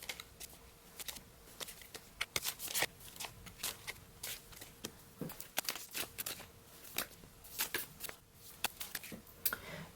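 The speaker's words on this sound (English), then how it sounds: "Now I am going to lay these cards out and then we will get started." Oracle cards being laid out for a reading, heard as soft, close snaps and slides of cards placed one after another in an irregular, quiet rhythm with no voices.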